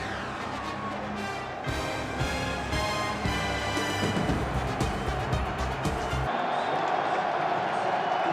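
Large stadium crowd at an NFL football game at FedEx Field, Giants at Redskins, a steady roaring murmur of thousands with some cheering swells, fairly loud throughout and thinning near the end.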